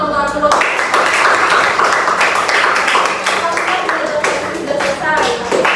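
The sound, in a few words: clapping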